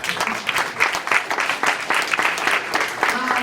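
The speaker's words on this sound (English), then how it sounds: "You could clap for that" An audience applauds at a community leadership award ceremony, a dense and lively patter of many hands clapping at steady strength for several seconds.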